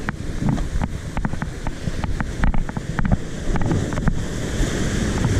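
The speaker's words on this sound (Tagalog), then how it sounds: "Malakas ang alon." Strong surf crashes steadily with rushing water and gusty wind noise on the microphone, continuous and loud throughout.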